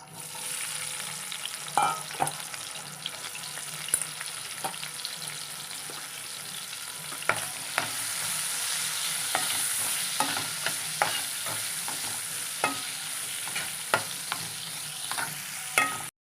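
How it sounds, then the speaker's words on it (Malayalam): Steady oil sizzling runs throughout as pieces of green mango fry in coconut oil in a pan, punctuated by occasional scraping clicks of a spatula stirring. "ആ മാങ്ങ നമുക്ക് ഈ വെളിച്ചെണ്ണയിൽ തന്നെ നമുക്കൊന്ന് വറുത്തെടുക്കാം."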